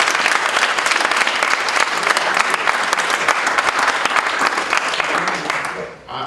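A large audience at a Kwanzaa celebration applauds steadily, with dense continuous clapping that holds loud for several seconds and then fades near the end.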